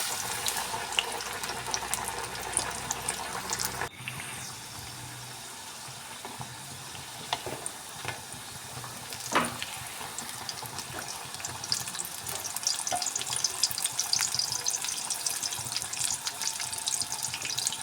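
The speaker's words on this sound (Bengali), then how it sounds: "আর এদিকে আমার তেলটা গরম হয়ে গেছে। তো এরপর আমি এক এক করে এগুলোকে ভেজে নেব।" Egg and flour snacks frying in hot oil, a dense continuous sizzle and crackle that shifts abruptly a few seconds in as pieces go in, then bubbles on steadily with occasional pops, no talk.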